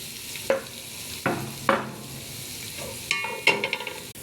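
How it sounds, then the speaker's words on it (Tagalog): Onions fry in a pan with chicken nearby, a soft sizzle under a handful of distinct spoon scrapes and clinks spaced a second or two apart, close and without speech. "Ikos-ikos lang natin. Sibuyas lang."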